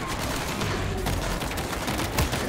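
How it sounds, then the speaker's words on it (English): Machine gun fire in World War Z Aftermath's Moscow level, a continuous dense rattle of rapid shots that runs the whole time under busy game noise. "Machine gun ready."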